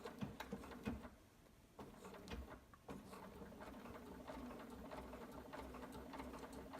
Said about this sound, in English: now we're ready to sew the flap on using our SewTites to keep it in place